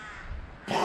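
Crows cawing outdoors at a campsite in Dorset, with a loud harsh caw breaking in at the end after quieter background calls, fairly close.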